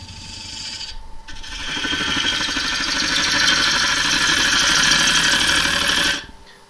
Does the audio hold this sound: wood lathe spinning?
yes